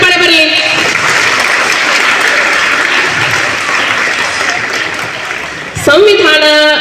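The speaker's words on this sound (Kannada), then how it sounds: "ಇನ್ನೊಂದು ಜೋರಾದ ಚಪ್ಪಾಳೆ ಬರಲಿ." Loud, dense applause from a school audience for a child who recited the constitution preamble at a flag-hoisting event, sustained for several seconds with a speaking voice briefly at the start and end.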